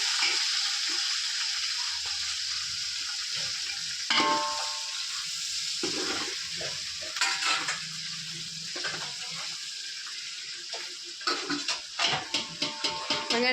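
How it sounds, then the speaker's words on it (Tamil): One kilo of cut onions frying in oil for chicken dum biryani: a broad, fairly quiet sizzle throughout, with occasional thumps and stirring scrapes, and a run of rapid clinking stirs near the end. "இப்போ நம்ம வந்து 1 கிலோ வெங்காயம் சேர்த்துக்கலாம். கட் பண்ணி வச்ச வெங்காயம்."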